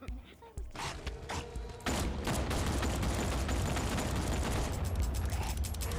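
Gunfire in the Batman Arkham Knight video game, loud dense bursts that swell into a continuous roar of shots and explosions, with a voice speaking briefly near the start.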